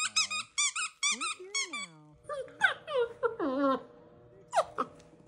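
A dog whimpers and whines in a run of high, squeaky cries, close and fairly loud, with brief pauses between bursts and a few lower wavering whines later.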